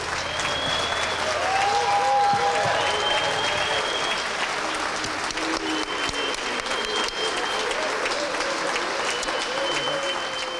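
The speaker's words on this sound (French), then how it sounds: "Je vous demande d'applaudir chaleureusement Michel Goulet." Audience applause at a community ceremony in Péribonka honouring a local man, forming a dense, steady wash of clapping from a large crowd that holds for about ten seconds, with faint whistles or tones over it.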